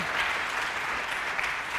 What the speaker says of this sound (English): So they are now a big warm applause for them